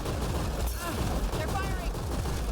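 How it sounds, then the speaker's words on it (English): Enemy gunfire rattles nonstop through a Mass Effect Andromeda multiplayer battle, with dense rapid shots and booming impacts layered over game noise. "They're firing."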